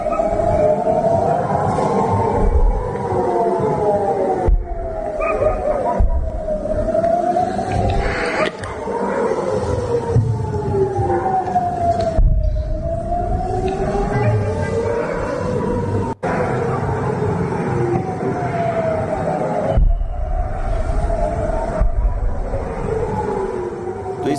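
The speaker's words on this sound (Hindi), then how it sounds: "सायरन की आवाज आप सुन पा रहे हैं" Air raid sirens wail during a ballistic missile attack, a loud rising-and-falling tone that repeats in long steady cycles over a dense background of city noise, continuous throughout.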